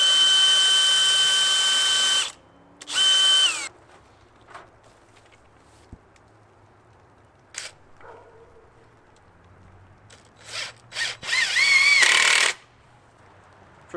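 A power drill whirs in several short, loud bursts while driving into the wood of a rabbit hutch, with quiet gaps, faint knocks and handling noises between runs.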